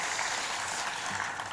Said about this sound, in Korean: 우리 성가대에게 다시 한번 격려의 박수 부탁드립니다